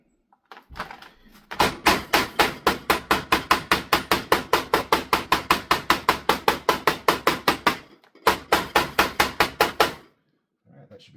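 Rapid, steady hammer strikes on a silver ring with turquoise inlay, dozens of sharp close metallic taps in a fast even rhythm, pausing briefly before a final burst.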